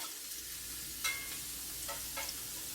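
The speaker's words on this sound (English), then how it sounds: "I'm just going to saute this down just for a second" Brussels sprouts sautéing in a cast iron skillet with bacon grease give off a steady, fairly quiet sizzle, with a few brief scrapes or stirs on top; no one speaks.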